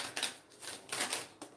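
Tarot cards are shuffled by hand in quick, close, crisp riffling bursts, with soft papery slaps between them and no voices.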